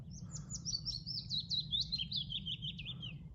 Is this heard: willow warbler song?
yes